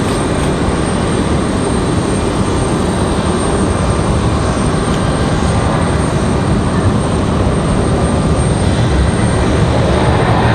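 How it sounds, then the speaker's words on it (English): A Southwest airliner lands and reverses thrust, giving a steady, loud, broadband engine roar that holds without letup throughout, with no voices. "Another wonderful shot there of the Southwest. Reversing thrust."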